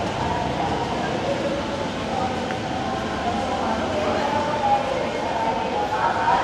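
A Manila LRT light rail train heard from inside the carriage, with a steady loud rumble and rolling hum running throughout and a faint squeal of wheels or brakes.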